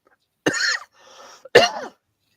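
Two harsh coughs close to the microphone, separated by a short raspy breath.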